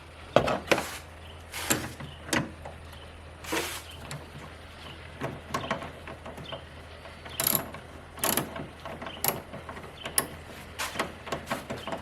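Tightening a ground wire bolt on a car with a ratchet produces bursts of quick, sharp clicking that start and stop irregularly, close and moderately loud over a quiet background, with no talking.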